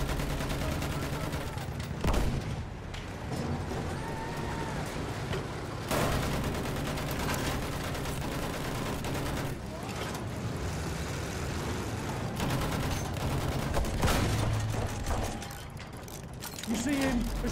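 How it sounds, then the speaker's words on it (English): Machine-gun fire and heavy gunfire crackle through a WWI battlefield game set on the River Somme, where a Mark landship tank fires its cannon. The dense, continuous din of shots and rumble stays loud throughout, with voices mixed into the chaos. "There's a machine gun!"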